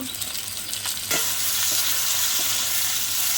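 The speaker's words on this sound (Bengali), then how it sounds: "ভালো করে নাড়াচাড়া করে কষে নেব।" Onion, crushed garlic and chopped tomato frying in oil in a pan: a few spatula scrapes, then a sudden loud steady sizzle as more goes in, heard close with no voices.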